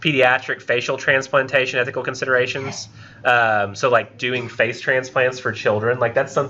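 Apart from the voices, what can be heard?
No distinct noise like a dog, phone or traffic.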